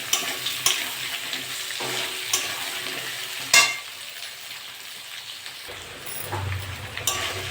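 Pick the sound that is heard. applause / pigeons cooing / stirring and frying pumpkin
stirring and frying pumpkin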